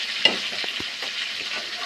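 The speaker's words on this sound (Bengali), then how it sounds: "ভাজা এক পিস হয়ে গেছে।" Pieces of silver carp fish fry in a pan with a steady, close sizzle throughout, joined by a few soft clinks and scrapes of a spatula.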